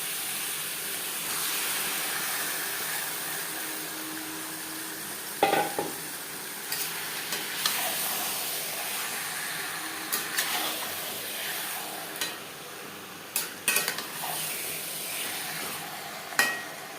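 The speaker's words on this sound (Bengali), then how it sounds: "পেঁয়াজও মশলার সাথে চিকেন বেশ ভালো করে মিক্স করে দেবো।" Chicken pieces mixed with onion and ground spice paste sizzle softly in a pan while a spoon stirs, giving scattered scraping knocks over a quiet, constant hiss, with no voices.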